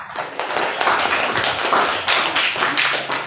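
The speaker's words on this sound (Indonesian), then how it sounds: "sekali lagi beri aplaus untuk kita semua" Classroom applause from students clapping for everyone, a dense burst of many hands lasting throughout, fairly loud and close, with faint voices mixed in.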